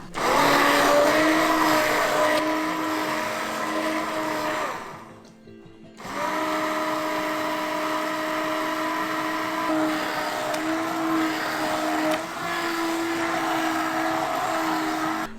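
A blender purees butternut squash soup with a loud, steady whirring drone that stops briefly for about a second in the middle, then resumes at full strength; no speech.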